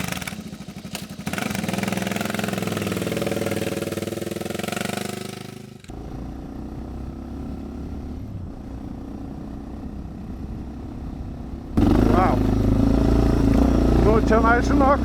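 A Suzuki motorcycle pulls away uphill on a steep Scottish hill climb, its engine revving loudly at close range, dropping to a quieter rumble, then roaring back strongly, with speech heard over it.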